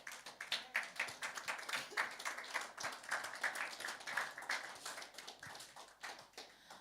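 Church congregation claps together during a Sunday morning service, a dense, sustained patter of many hands filling the room, fairly steady throughout with no talking over it.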